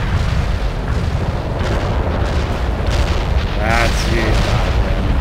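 Artillery barrage in the strategy game World in Conflict, a continuous roar of distant shell impacts and rumbling booms layered into a dense wall of explosions, with a voice briefly speaking near the end.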